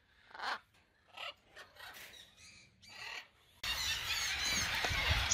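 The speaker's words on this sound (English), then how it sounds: "every parrot having their own specific chirp or screech or squawk." Harsh parrot screeches and squeals at a parrot sanctuary, scattered bursts at first, then a dense, loud, continuous screeching chorus filling the second half.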